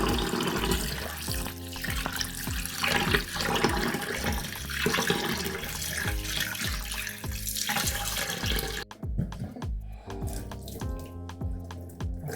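Rice is rinsed by hand under a running tap while cooking a Jamaican-style meal: a continuous rush of water with sloshing, rattling grains and small splashes throughout.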